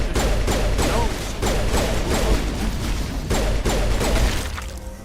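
Gunfire in the sci-fi shooter game Mass Effect, repeated bursts of rapid shots with thuds and mechanical clatter, loud and close, fading toward the end.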